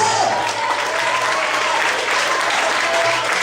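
Steady, full applause from a church congregation, continuous and fairly loud throughout with no breaks.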